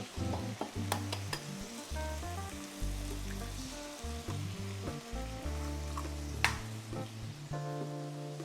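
Egg frying in a pan on a TOKIT portable induction cooker while char koay teow is cooked, a steady close sizzle with stirring and scraping clatters, one sharp bright clack near the middle, no voices.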